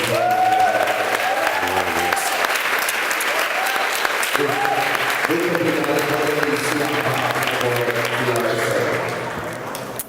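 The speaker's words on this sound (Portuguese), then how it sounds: "Vamos aplaudir o Senhor na mesa." A church congregation at a Sunday service applauds loudly and continuously for about ten seconds, with voices calling out over the clapping before it fades slightly at the end.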